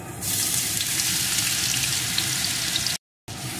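A paste of ginger, green chili, onion and garlic fries in hot mustard oil with a steady, loud sizzle that holds almost unbroken, cutting out briefly near the end.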